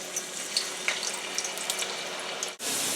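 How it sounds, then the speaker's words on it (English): Steady crackling sizzle of potatoes frying in hot oil, with small pops scattered throughout, then a brief dropout before the hiss returns. "carefully put your potatoes in the fryer, and you're going to hear that sizzle"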